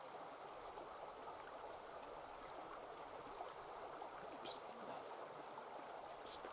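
Faint, steady rush of a creek flowing through a quiet snowy landscape in the Pacific Northwest. A continuous soft trickle with no other sounds.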